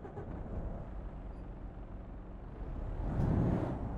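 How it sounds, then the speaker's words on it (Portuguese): Diesel engine of a modern truck in Euro Truck Simulator 2 cranks and catches near the end, a rising low rumble over a steady idle hum with no talking. "Vamos ligá-lo?"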